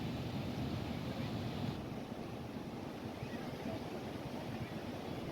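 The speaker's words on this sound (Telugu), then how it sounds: "చూడండి అలలు ఎలాగ వస్తూ ఉన్నాయో" Sea waves breaking at RK Beach in Visakhapatnam, a steady broad roar of surf with wind buffeting the microphone throughout, continuous and moderately loud with no distinct individual crashes.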